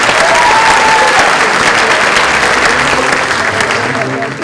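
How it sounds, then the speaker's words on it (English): Loud, sustained applause from a large crowd at a book release event, steady clapping throughout with a dense wash of hands. "Give him a big round of applause."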